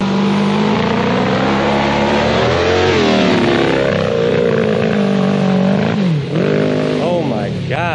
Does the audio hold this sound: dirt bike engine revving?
yes